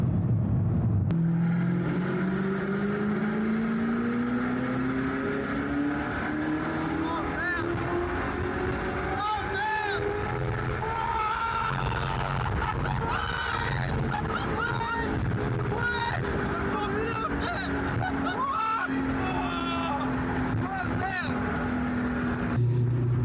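An Audi R8 engine drones loudly from inside the moving car, its pitch rising and falling smoothly as it accelerates and eases off, with voices talking over it now and then.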